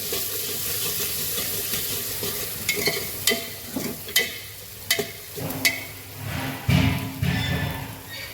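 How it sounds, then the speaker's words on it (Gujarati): Capsicum and carrot pieces frying for masala pulao, with a soft sizzle underneath and repeated sharp clatters and scrapes of stirring in the pan, close by and uneven in rhythm. "આ શિમલા મરચાં નાખીશું, આ ગાજરના ટુકડા નાખીશું"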